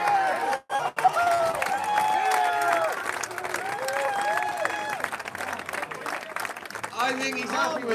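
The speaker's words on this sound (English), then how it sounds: "He's asking the crowd to go nuts here." Crowd at a European Elite Trials Championship men's 26-inch trials bike final in Aarhus erupts in loud, sustained cheering, whoops and applause after a brief dip, with a commentator's voice over the roar throughout.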